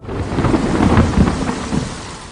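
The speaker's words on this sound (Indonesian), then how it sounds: "Badai kembali datang menerjang mereka." A violent thunderstorm at sea on the Pacific Ocean, with loud rumbling thunder rolling under a dense, steady roar of heavy rain, close and continuous.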